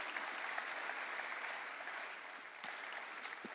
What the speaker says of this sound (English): Another round of applause, ladies and gentlemen.